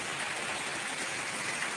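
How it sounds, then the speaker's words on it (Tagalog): Heavy morning rain pours down in a dense, steady hiss of falling water, constant and fairly close, with no voices over it. "oh grabe ulan"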